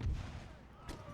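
Cannon artillery firing in the Empire: Total War battle game, a low booming blast at the start followed by a fainter second report, distant and muffled.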